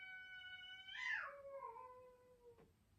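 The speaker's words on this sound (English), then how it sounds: "you might hear some crazy cat wailing in the background" A cat outside a window lets out a long, drawn-out wail that rises and then slides downward, muffled and somewhat distant, in an otherwise quiet room.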